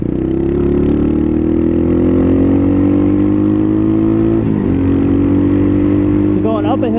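A 2019 Apollo 250cc dirt bike climbs a hill on a road, its single-cylinder engine droning steadily loud and close, pitch slowly rising under load, dipping briefly at a gear change before pulling on again, with a voice speaking near the end.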